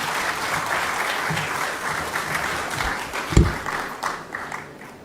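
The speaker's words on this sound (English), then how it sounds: "Please, a round of applause for Ms. Holder." Audience applause at a ceremony in Trinidad and Tobago, steady sustained clapping from a crowd over five seconds, moderately loud, with one sharp thump partway through and the clapping thinning toward the end.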